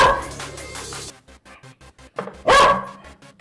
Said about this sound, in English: Dogs are fired up.